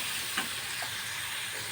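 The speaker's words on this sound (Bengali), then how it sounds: "এবার মশলাটা একটুখানি আঁচ কমিয়ে কষিয়ে নেব" Spice paste with a little turmeric sautéing over a low flame, a steady soft sizzle with a couple of faint stirring scrapes.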